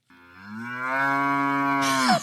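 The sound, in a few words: cow mooing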